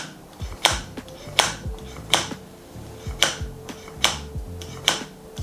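Plastic clips of a wiring loom snap into place on a Suzuki motorcycle during restoration, about eight sharp, crisp clicks at irregular intervals, close and fairly loud over a low background hum.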